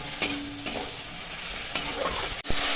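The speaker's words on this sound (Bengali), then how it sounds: "কাঁচা লঙ্কাগুলো দিয়ে দিলাম দিয়ে পোস্তর সাথে আঁচটা জোরে দিয়ে একটু দু মিনিট কষাবো" Poppy seed paste with green chillies frying in a pan over high heat, a continuous close sizzle broken by a few sharp stirring scrapes and knocks.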